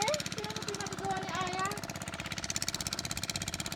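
A steel hacksaw cuts metal posts on a small farm, rasping in fast, steady strokes close by, with a voice talking over the cutting.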